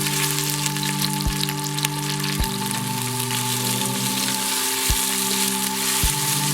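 Bite-sized chunks of sausage fry in olive oil in a hot pan, giving a steady close sizzle that runs the whole time, broken by a few sharp low knocks and clatters.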